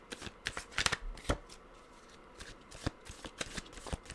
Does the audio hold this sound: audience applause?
no